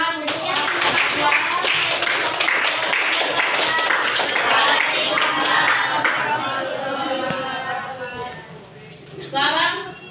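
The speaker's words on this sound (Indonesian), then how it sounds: "Tepuk tangan untuk Ya." A school audience claps for a student group's compost-making presentation, a steady crowd of hands through the first eight seconds under ongoing chatter, fading then swelling briefly near the end.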